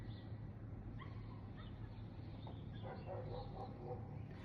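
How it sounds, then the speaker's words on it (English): A dog outside gives faint, distant yelps and whimpering barks that sound hurt, scattered irregularly over a steady low background hum. "you hear the dog barking outside. And, oh, that dog sounds like it's hurt."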